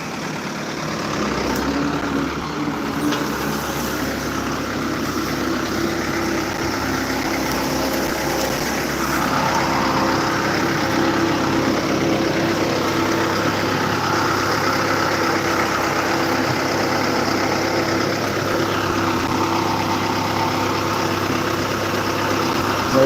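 Tractor pulling a zero-till drill sowing mung beans in a field, its engine running at slow, steady revs throughout, a continuous close mechanical drone with no talking.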